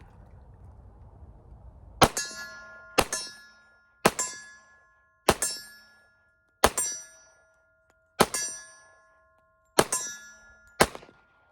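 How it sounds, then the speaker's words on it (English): Eight ringing metallic clangs, spaced about a second apart, as .45 ACP rounds from a WW2 Remington Rand 1911 pistol strike steel targets downrange; each hit is distinct, with a faint hum before the first. "Pretty easy to hit that steel target."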